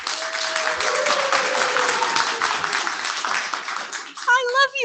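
Audience applause at an IETF lightning talk session, sustained clapping from a crowded room with a faint tone running underneath, ending as a voice begins speaking.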